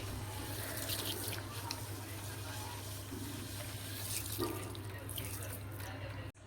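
Water swishes and splashes steadily as mung beans, chickpeas and moth beans are rinsed in a bowl for sprouting, with a constant low hum underneath.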